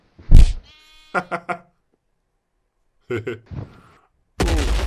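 Sheep bleat in a Minecraft-style animation, a couple of short, wavering cries in bursts separated by silence, with a voice speaking nearby and a loud noisy burst at the end.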